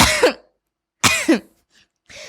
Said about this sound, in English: Coughing into the mic.